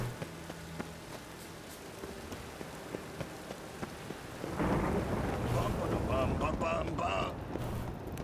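Steady rain patters in The Witcher 3 while low thunder rumbles, swelling into a loud, heavy downpour and rolling boom about halfway through before easing slightly.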